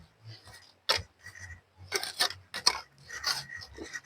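Roots of a large garden plant being dug up with a hand tool, meant for pork nilaga: a handful of rough, rasping scrapes in uneven bursts, close and fairly quiet, with no talking.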